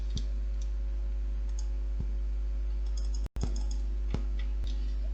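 A computer mouse clicks in the Paint program: a few sharp, isolated clicks spaced seconds apart over a steady low hum, with a brief dropout near the end.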